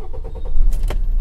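A Maruti Suzuki Swift Dzire, just fitted with a replacement mass air flow sensor, cranks briefly and then settles into a loud, steady engine rumble heard up close.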